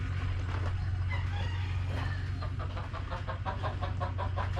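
Several hens cluck in short bursts over a steady low hum, with a brief higher squawk near the start; the birds sound close.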